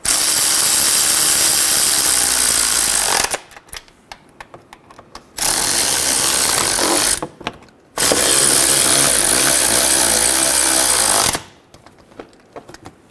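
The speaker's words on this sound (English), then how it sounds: "Snug down the bolts." Power tool, likely an impact wrench, snugging down front transmission mount bolts on a 2003-2008 Honda Pilot: three loud, sustained bursts of buzzing, rattling drive, each a few seconds long, separated by short quiet pauses.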